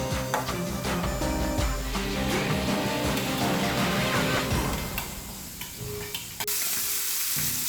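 Burger patties sizzle loudly and continuously on a hot oiled griddle, with scraping and stirring clatter on top that fades toward the end.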